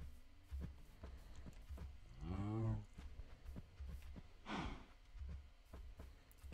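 A cow in modded Minecraft gives a short, low moo, followed a couple of seconds later by a breathy snort, with faint footsteps ticking in the background.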